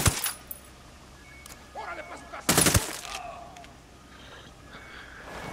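Gunfire in the open-world shooter Ghost Recon Wildlands in Caimanes Province: a sharp shot at the start, then a loud short burst midway, with faint scattered noises between.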